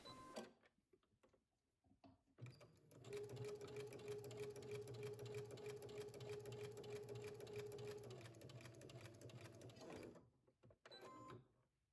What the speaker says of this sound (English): You're going to use a basting stitch and sew from the outer edge all the way over to the neck edge.